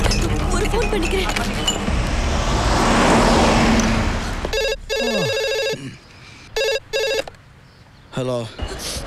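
A telephone rings during a call in a film scene: road traffic rumbles first, then the ringtone sounds in several short repeated bursts separated by gaps.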